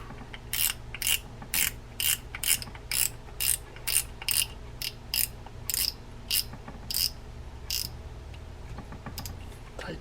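Drag adjuster knob on a Daiwa Regal X 2500C spinning fishing reel being turned, giving a steady run of crisp, close ratcheting clicks in regular pulses, with a faint low hum beneath.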